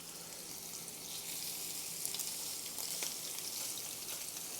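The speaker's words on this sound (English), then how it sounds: "Should give us a nice little sizzle here." Seasoned food sizzles in a hot pan, a steady bright hiss with faint crackles that swells slightly and holds throughout, with no talking.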